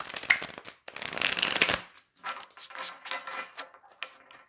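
Tarot cards are riffled in a loud burst, then shuffled in a series of softer, rhythmic slaps and flicks, close up.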